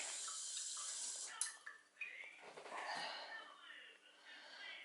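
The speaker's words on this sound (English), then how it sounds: "Washing our hands is our latest, I suppose, game, sensory play." A bathroom tap runs steadily into a sink while a toddler washes hands with an adult, a close, continuous watery hiss with splashes as hands move under the stream.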